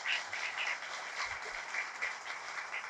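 An audience at a business meeting gives steady applause, a dense even patter of clapping from a sizeable crowd throughout.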